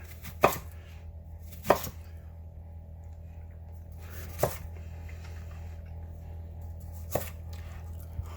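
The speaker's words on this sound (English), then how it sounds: "Just chopping down on this onion, making some little crescent onions." A kitchen knife chops an onion into crescents as a topping for a gluten-free pizza: four crisp, separate chops land at uneven intervals over a low, steady background hum.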